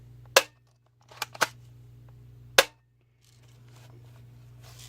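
A Lancer Tactical LT20B airsoft sniper rifle fires four sharp, dry snaps, one alone, a close pair, then another, each short and loud over a steady low hum, followed by faint rustling.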